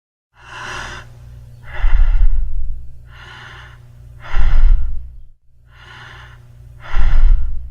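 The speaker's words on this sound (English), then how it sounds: "normal, unlabored breathing" Slow, even breaths drawn in and pushed out, four to five cycles of soft airy inhalation and exhalation, close up and alone.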